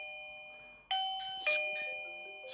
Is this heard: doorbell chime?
yes